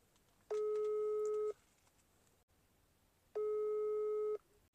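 A telephone tone sounds twice on an unanswered call, each a steady electronic beep lasting about a second, separated by a long quiet gap over faint background hiss.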